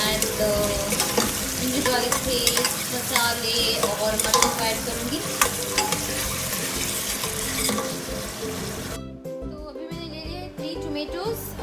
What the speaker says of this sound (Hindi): प्याज को डालूंगी.